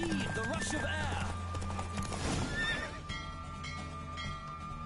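A horse in The Witcher 3 on PS5 whinnies and its hooves clip-clop during a race, with a voice speaking over the hoofbeats and in-game music and effects layered throughout.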